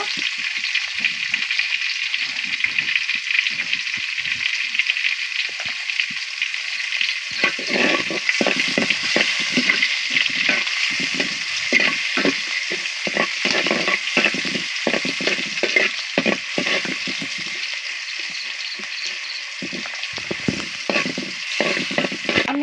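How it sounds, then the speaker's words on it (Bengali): Onions frying in oil for a katla fish dish, a continuous close crackling sizzle broken by repeated scraping and clattering stirring strokes throughout. "পেঁয়াজ দিয়ে দিচ্ছি পেঁয়াজটা লাল করে নিব"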